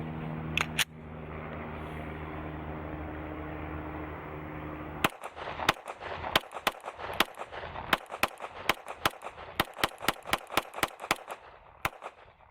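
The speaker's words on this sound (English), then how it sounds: "We're gonna go ahead and run magazines 4, 5, and 6 through the G17." A Glock 17 pistol fires at a shooting range, a fast string of about twenty sharp, loud close shots at an uneven rhythm, preceded by two shots and a stretch of steady background hum.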